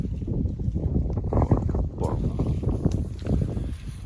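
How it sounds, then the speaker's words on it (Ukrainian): Strong gusty wind buffets the microphone with low rumbling roars that rise and fall unevenly throughout. "Ідемо, бо щось вітер розгулявся."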